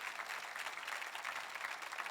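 A church congregation applauding during a Sunday morning service, steady, even clapping that holds at a moderate, somewhat distant level throughout with no voices standing out.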